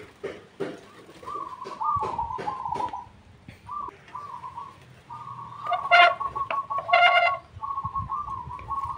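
A perkutut, or zebra dove, calls close by in repeated soft cooing phrases, with sharp clicks and rustling between the calls.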